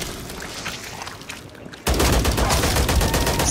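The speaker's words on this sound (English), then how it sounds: "So this is the gun that takes out hordes." In a zombie video game, the horde gun opens up with a sudden, loud burst of sustained rapid fire that starts midway and continues without a break, preceded by quieter game noise.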